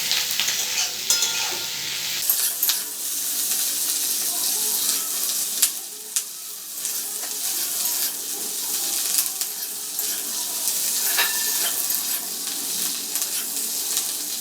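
Onions and capsicum fry in a hot pan with a bright, steady sizzle that swells after the first couple of seconds, while a utensil scrapes and clinks irregularly as the vegetables are stirred.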